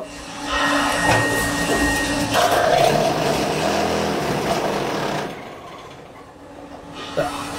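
A brick making machine runs loudly and continuously, a dense mechanical whir and rattle with a whining tone, before easing off to quieter background noise near the end.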